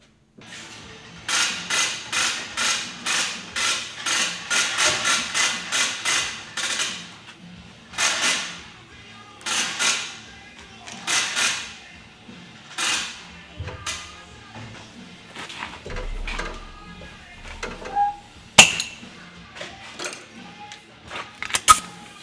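Rapid bursts from an air hammer fitted with a cut-down bit, working on a CP4 injection pump on a Gehl RT210: a loud run of close rattling blasts, then scattered shorter hits and clanks with pauses between.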